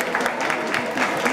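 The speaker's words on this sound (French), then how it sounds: "applaudissez d'abord bien." An audience claps for the winner at a science slam event in Cameroon, a brief, moderately loud burst of crowd applause with faint voices mixed in.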